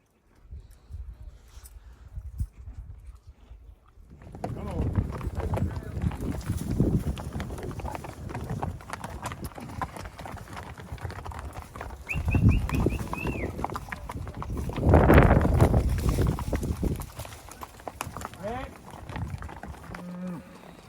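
Horses moving cattle down a steep mountain trail during a fall gather on the Bears Ears in Utah, with hoof clops and trampling under steady outdoor noise, cows lowing and occasional faint voices.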